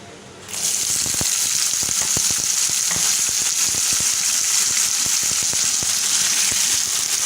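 Vegetables hit a hot pan with a sudden burst of loud, dense sizzling that settles into a constant crackling fry, with faint utensil clicks, close and with no voices.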